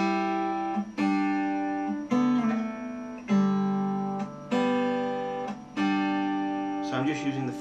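Plucked guitar notes carry a melody while the open third string rings underneath as a steady drone, six or seven picked attacks at an easy pace, close and alone.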